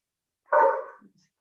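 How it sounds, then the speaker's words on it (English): A single dog bark, short and moderately loud, heard alone against silence during a remote Senate appropriations meeting. "I thought I could hear a dog bark."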